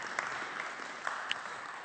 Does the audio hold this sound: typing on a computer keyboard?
no